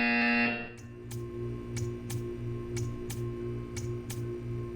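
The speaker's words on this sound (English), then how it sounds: "You will hear a buzzer." A repeating buzzer from the video game Portal 2, pulsing about eight times at a steady rhythm over a low droning background hum, fairly loud and with no voices.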